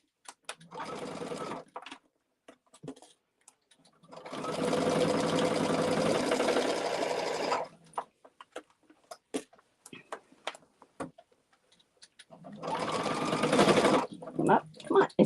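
A sewing machine stitches across a bag seam in three loud bursts of running, separated by pauses with a person talking and small clicks as the fabric is adjusted.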